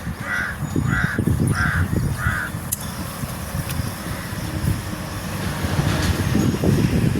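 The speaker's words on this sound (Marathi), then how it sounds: "इकडे पक्ष्यांचा पण किलबिलाट चालू आहे मस्त." Birds calling outdoors, a run of four repeated harsh caws early on over a rumbling background of passing traffic.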